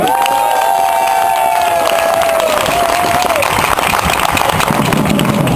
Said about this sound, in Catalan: I prepareu aquesta rebuda amb un fort aplaudiment